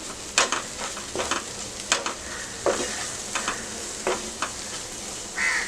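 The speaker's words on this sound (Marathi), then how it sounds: "चिमूटभर हळद, कोथिंबीर चांगलं परतून घेऊया" Turmeric, Kashmiri chili powder and fresh coriander are stirred in hot oil in a pan for restaurant-style egg masala. Repeated scraping stirs come in irregular bursts over a steady, soft sizzle, close by, with no talking.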